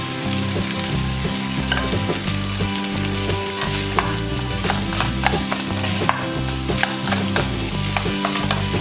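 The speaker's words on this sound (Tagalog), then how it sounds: "Add the rice and continue to mix until the rice grain disintegrates." Rice and onion fry and sizzle in an oiled pan for pineapple fried rice, with steady crackling and repeated scraping stir strokes running throughout, close and fairly loud with no voices.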